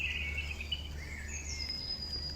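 Birds sing faintly in spring woodland among bluebells at Norsey Wood, Billericay, thin high chirping lines drifting over a steady low background rumble, with no talk.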